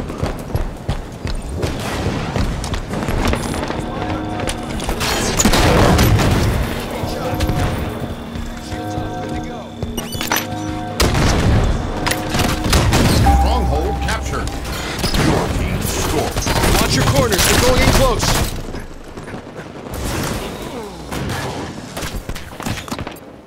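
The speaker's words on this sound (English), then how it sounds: "Enemy fire." Bursts of enemy gunfire and booming explosions in a team arena video game, clustered shots and thuds recurring over the whole stretch amid game music and announcer voice lines, with a player speaking intermittently.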